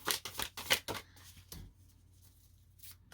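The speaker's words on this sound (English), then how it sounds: "They're a little harder to shuffle." Several quick bursts of tarot card shuffling riffle in succession, then fade to near silence with one last soft flutter.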